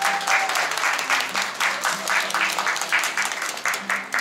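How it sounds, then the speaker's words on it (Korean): Wedding guests applaud the bride's entrance in a steady, dense round of clapping from a large indoor crowd, with faint voices underneath. "우리 신부의 아름다움에도 박수 한번 주셔야죠."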